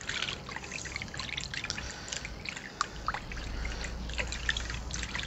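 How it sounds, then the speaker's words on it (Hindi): Raw liver (kaleji) washed and mixed by hand in a bowl of water: continuous soft sloshing and trickling with scattered small splashes and drips, close by and steady throughout, with no talking. "एक बाउल के अंदर पानी ले लेंगे और इसके अंदर हम कलेजी डालेंगे। ये देखिए इसको थोड़ा सा हाथ की मदद से आपने इस तरह मिक्स कर लेना है।"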